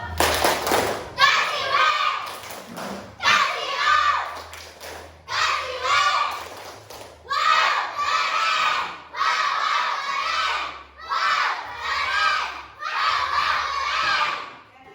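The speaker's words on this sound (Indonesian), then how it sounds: "coba beri tepuk wow dulu yang semangat dong. Tepuk wow." Schoolchildren in a classroom perform a rhythmic clapping chant called 'tepuk wow', with loud bursts of group clapping and shouted chant lines in regular phrases, separated by short pauses, ending in cheering.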